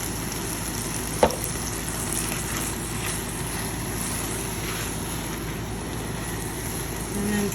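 Blended tomatoes sautéing in a pan give a soft, steady sizzle throughout, with a single sharp clink early on and no talking.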